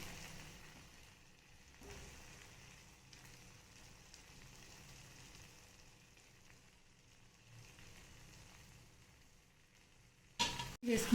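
Eggs frying in a pan, a quiet steady sizzle running throughout, ending with a short louder clatter of utensil movement.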